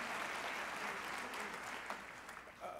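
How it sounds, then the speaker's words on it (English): Audience clapping during a city's State of the City address, a dense wash of applause at moderate distance with faint crowd murmur underneath. "we can clap for solar, we can clap for clean energy."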